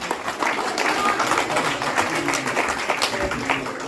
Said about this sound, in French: Les Antilles, on applaudit les Antilles.